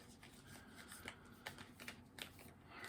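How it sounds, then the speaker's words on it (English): A tarot card deck being shuffled by hand, giving a string of soft papery riffles and sharper flicks, close and fairly quiet, with no talking. "This isn't going well so far with my shuffling."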